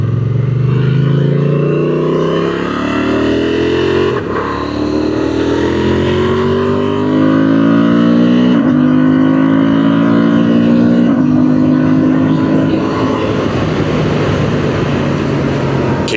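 A KTM motorcycle engine and a 2024 Honda Transalp revving up through the gears, rising and falling pitch sweeps repeating across a steady, loud, close drone with no talking.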